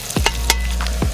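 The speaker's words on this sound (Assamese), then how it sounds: "তাৰপিছত মাংসৰ লগত তাক ভাজিম" Mutton sizzles in a pan with fried onions and spices while cooking outdoors, a steady loud hiss broken by a few quick stirring scrapes.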